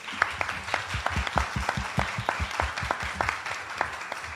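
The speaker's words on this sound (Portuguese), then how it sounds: "Vou pedir uma salva de palmas a todos." An audience at a tax moot court competition in Brazil applauds the competitors, a modest crowd clapping in quick, distinct hand strikes that sound fairly distant and soft in the room.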